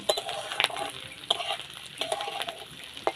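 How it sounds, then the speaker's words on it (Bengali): Onions and nuts fried in oil for an egg korma, stirred with a spatula: steady soft sizzling under repeated sharp scrapes and clinks of utensil against pan. "একটু নাড়াচাড়া করে বাদামগুলো দিয়ে দেবো"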